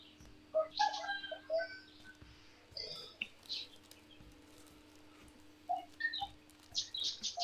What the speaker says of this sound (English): Are those birds?